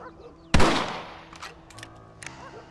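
A single loud rifle shot fires close by with a sharp crack and a quickly fading echo, followed by faint rustling and quiet background sound.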